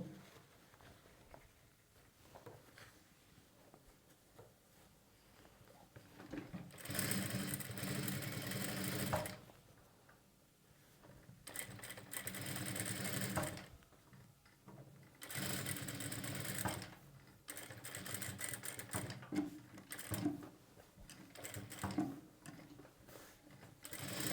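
Sewing machine stitching piping along a blouse back neckline. The motor whirs in several bursts of a few seconds each, separated by quiet pauses, and no one speaks.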